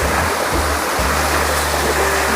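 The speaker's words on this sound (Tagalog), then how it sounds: "Pero pag ugas-ugas dito, ayan, banlawan lang namin." Water runs and splashes steadily while vegetables freshly picked on a mountain farm are rinsed, a loud continuous rush close by with a low hum underneath and no voices.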